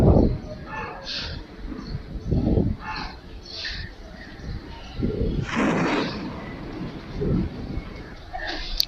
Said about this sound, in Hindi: बिजली की कड़कने की आवाज़ थी।